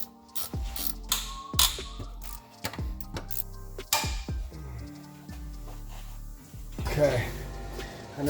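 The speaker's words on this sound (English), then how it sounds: "I put this wrench up on there and then I put this right here and I pry this like this" A wrench is used as a pry bar on the 4R100 transmission of a 2000 Ford F-350 4x4, giving a series of sharp metallic clanks and ratcheting clicks up close, while someone talks over them.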